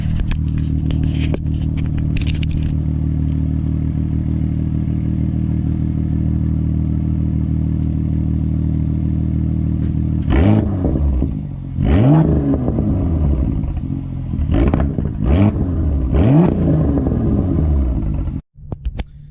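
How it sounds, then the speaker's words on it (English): BMW M2 with an M Performance exhaust in sport mode, first a steady deep idle rumble, then several sharp revs rising and falling in quick succession, loud and close, with no talking. "It's now in sport mode, so I'm going to actually get in and give it some revs."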